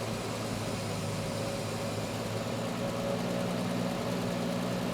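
A 1973 Triumph TR6 engine idles steadily while being tuned, a constant close-up hum with a low rumble and no clear change over the few seconds.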